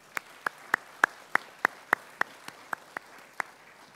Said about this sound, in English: A huge round of applause for these guys also.